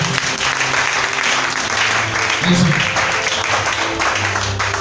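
Clapping fills a church as a congregation applauds for the Lord during a sermon, a steady sustained round of close applause with some voices mixed in.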